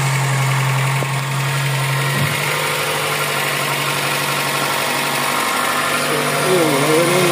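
A Suzuki APV van engine runs at a steady, loud idle with a constant drone and a slight shift early on, close by.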